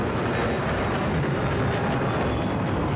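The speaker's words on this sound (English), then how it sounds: "I can see a ground attack aircraft coming behind me." A ground attack aircraft in the Battlefield 4 video game roars past as a steady, dense jet rumble with distant booming underneath, continuous and fairly loud for the whole stretch, with no voices.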